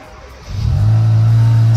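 A Kia Cerato GT engine cranks briefly, then catches and settles into a loud, steady idle close by.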